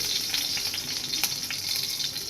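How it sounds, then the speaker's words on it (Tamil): Mustard seeds splutter and crackle in hot oil in a pan, a dense, steady sizzle with scattered sharp pops, close and alone. "ஒரு பேன் எடுத்துகிட்டு கொஞ்சம் ஆயில் ஹீட் பண்ணிக்கோங்க. மஸ்டர்ட் போட்டுக்கோங்க."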